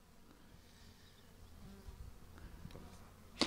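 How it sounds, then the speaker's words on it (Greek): Honeybees buzzing at an open beehive during an inspection, a faint steady hum that swells slightly toward the end, with a sharp click or knock at the close. "Να δούμε από πιο κοντά τις μέλισσες."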